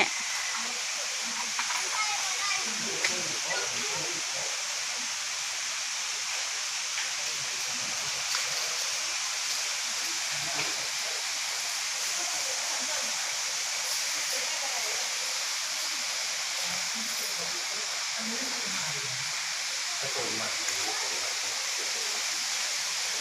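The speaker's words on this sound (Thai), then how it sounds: "น้ำตก" A steady rushing waterfall at a zoo in Ubon Ratchathani, Thailand, fills the scene with broad hissing noise, while people talk faintly underneath.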